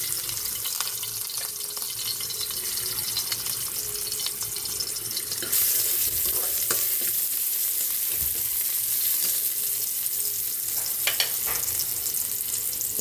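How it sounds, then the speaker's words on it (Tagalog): Garlic and onion sizzle in hot oil for a Filipino bitter melon stir-fry, a continuous close frying hiss that grows louder midway, with occasional clinks and scrapes of stirring. "Magigisa na tayo para sa ating gisang ampalaya."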